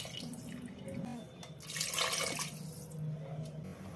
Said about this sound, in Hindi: जार का धोया हुआ पानी भी डाल लेंगे।